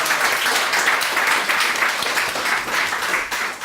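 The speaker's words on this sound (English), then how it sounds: "So give yourselves a round of applause" An audience gives a round of applause, dense continuous clapping from many hands filling the room at a steady, fairly loud level.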